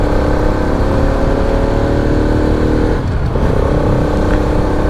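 Steady, loud 200cc Bajaj Pulsar 200RS motorcycle engine drone with a deep bass rumble, dipping briefly midway before resuming its continuous revving tone.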